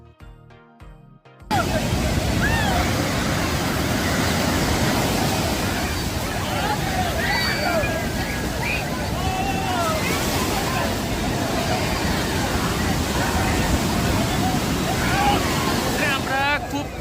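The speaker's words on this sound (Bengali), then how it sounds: "ভীষণ বড় বড় ঢেউ।" Large sea waves roll and crash steadily onto Puri beach where bathers are swimming, a loud, continuous surf roar buffeted by wind on the microphone, with faint crowd babble in the background.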